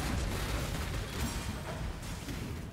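Dense, continuous rumbling blasts fill the scene as an explosion goes off in the Path of Exile video game, loud and sustained with heavy low booming throughout.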